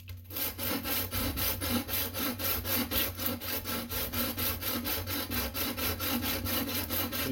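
Rhythmic back-and-forth sanding of an aluminum lightsaber part with 150-grit sandpaper, steady rasping strokes about three per second, close and alone without speech.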